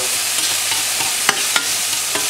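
Caraway seeds sautéing in a hot pan for a simple hotdog dish, a steady close sizzle with a few light scraping stirs over it.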